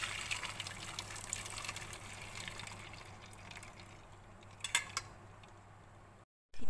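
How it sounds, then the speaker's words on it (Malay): Fish bone broth trickles and pours steadily through a strainer, faint and close, with a couple of soft splashes near the end. "Tapis pula ya air tulang ikan ni."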